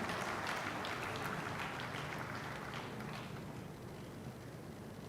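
Sustained crowd applause for students and parents at a university annual convocation ceremony, a dense steady clapping from a large audience that holds at an even level and eases slightly toward the end.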